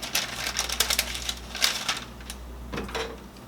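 A knife cutting through homemade Twix candy bars, giving a quick run of close, crisp tapping clicks against a board before it trails off.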